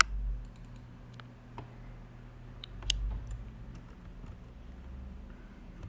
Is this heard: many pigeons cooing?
no